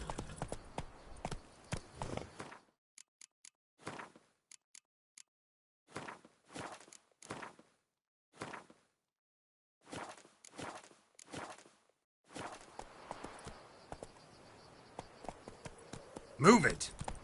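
Horse hooves clopping in Witcher 3 while a rider moves along, with irregular clusters of steps separated by short pauses and a breathy sigh at the end.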